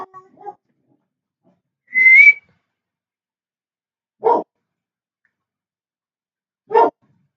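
Dogs bark in separate single barks spaced a couple of seconds apart, close and clear, with a brief high whistle-like call sounding before them and a faint voice at the very start.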